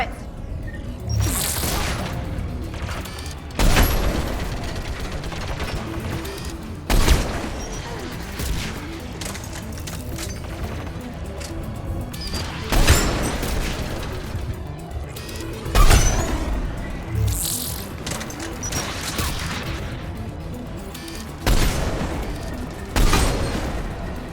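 Geth turret gunfire from the Mass Effect 3 video game, sounding as heavy booming blasts that repeat every few seconds over a constant rumbling battle din, loud and close.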